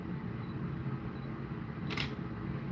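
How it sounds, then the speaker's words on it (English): A single crisp camera shutter click from a photographer shooting backyard wildlife during winter, sharp and brief against a steady low background hum. "he just moved just as I clicked the shutter"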